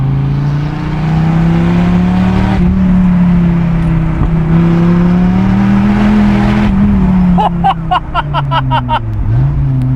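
A Dodge Viper engine held at a loud, steady roar up close, its pitch rising and falling slightly, then breaking into a rapid series of sharp revs and pops toward the end.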